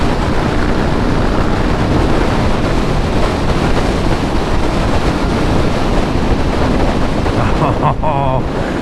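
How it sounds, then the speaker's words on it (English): Steady, loud, roaring wind noise while riding a 2020 Harley-Davidson LiveWire electric motorcycle, continuous and with no motor sound, with a faint voice near the end. "You get no motor sound whatsoever, all wind noise"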